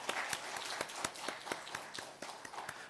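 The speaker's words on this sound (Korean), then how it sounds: "우리 함께 박수로 하나님께 영광 올리겠습니다." A church congregation at a Wednesday worship service claps together in a steady, even rhythm of distinct, fairly distant beats, sounding a bit like trotting hooves.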